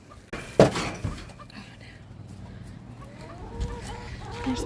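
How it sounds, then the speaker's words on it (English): Farm chickens cluck on and off around a feeding area, near and moderately loud, with a sharp knock early on and quiet rustling between calls. "There's my chickens."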